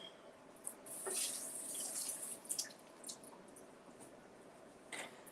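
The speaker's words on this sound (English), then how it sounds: "So we'll just give this a rinse" Water from a kitchen tap running while something is rinsed in the sink during cooking, a soft, faint splashing stream broken by a few brief drips and spatters, with no voices.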